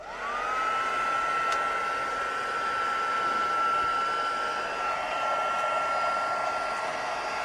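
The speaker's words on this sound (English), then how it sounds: "I'm going to get my heat tool and I'm going to heat it up." A handheld craft heat tool blows hot air over ribbon on a greeting card, a steady loud whirring hiss with a high whine that runs unbroken for the whole stretch, with no one speaking.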